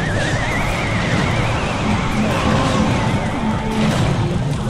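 A horse neighs in the mobile strategy game Clash Royale, a high, wavering whinny heard twice amid busy in-game battle noise.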